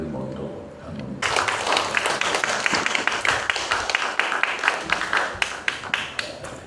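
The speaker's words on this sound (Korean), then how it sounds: "사회자가 박수 치라고 하지 않아도 알아서 치시니까" A congregation at a church revival meeting breaks into applause after a quiet start, a crowd of hands clapping close and lively, thinning toward the end into sharper individual claps.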